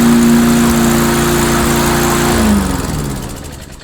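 An old Mastercraft lawnmower engine runs steadily and loud up close with a rough, pulsing drone, then its pitch drops and the sound fades near the end.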